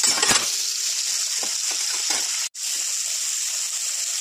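Fish dropped into hot white oil in a wok for a Bengali fish curry, giving a loud steady hiss and sizzle that runs throughout with a few faint clinks and one brief break.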